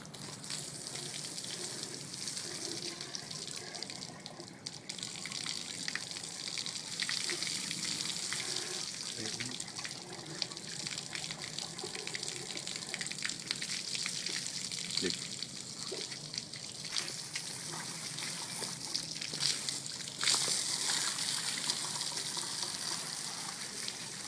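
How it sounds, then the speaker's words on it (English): Water sprays and gushes steadily over a Chevy 454 engine block during a rinse, a continuous hissing splatter with brief surges, while someone talks over it. "First thing we're going to do is we're going to get the block wet."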